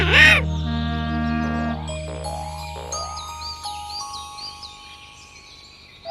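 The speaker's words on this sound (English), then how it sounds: "the jelly birds are singing in the trees" Chirping cartoon birds in sunny trees, a few bright warbling calls, near and fairly clear, over a sustained musical backdrop with a jingling start.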